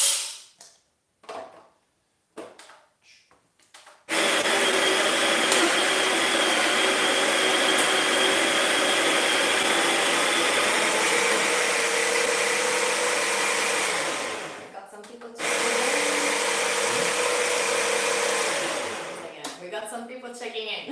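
Electric coffee grinder grinding washed-process Ethiopian coffee beans, a loud steady whirring drone that runs continuously, dips briefly, then resumes before trailing off; voices talk briefly before the grinding starts.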